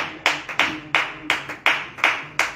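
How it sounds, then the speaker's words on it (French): A church congregation claps in unison to acclaim Jesus, about eight sharp, evenly spaced claps in a steady rhythm, loud and close with no voices over them. "Acclamez-le, acclamez-le"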